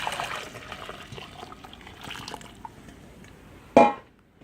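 Homemade turkey stock is poured into a measuring cup, a soft, steady liquid pour that swells briefly into a louder splash near the end before stopping.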